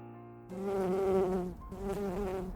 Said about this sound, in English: A bee buzzed in my ear.